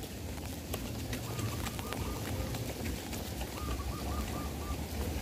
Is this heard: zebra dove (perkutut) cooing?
yes